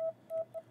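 Morse code radio signal at France's largest amateur radio club in Provins during a world Morse championship: a clear single-pitch tone keyed in short and long beeps, fairly faint with quiet gaps between.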